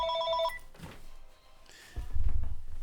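A mobile phone rings with a short electronic tone pattern, then cuts off, followed by rustling and a low handling thump as it is switched off.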